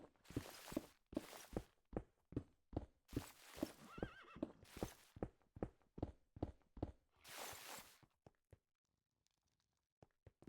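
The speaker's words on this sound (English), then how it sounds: "impressed you can hear the horses from here." Video game horses whinnying and snorting amid a steady run of clip-clopping hoof steps, fairly close, with the activity fading near the end.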